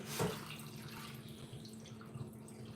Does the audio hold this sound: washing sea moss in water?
yes